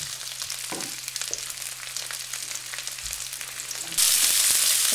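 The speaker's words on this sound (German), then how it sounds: "Die könnt ihr erstmal eine Minute schön anbraten." Mushrooms frying in olive oil in a deep wok pan, a steady close sizzle with occasional stir clicks that grows louder near the end.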